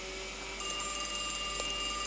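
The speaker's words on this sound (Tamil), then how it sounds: "என்ன ஃபோன் அடிக்குது?" A telephone rings in a burger shop kiosk video game during a night shift, a faint electronic trill that starts partway through and repeats steadily over a quiet background.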